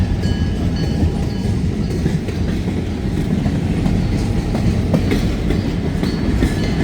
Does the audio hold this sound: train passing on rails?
yes